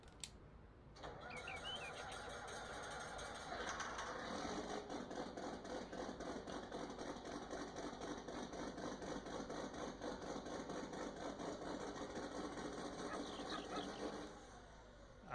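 A John Deere 4640 tractor engine in Farming Simulator 19, with a cab tent and a slurry spreader hitched, cranks briefly and then catches. It settles into a steady, loud diesel idle that runs without pause before cutting off near the end.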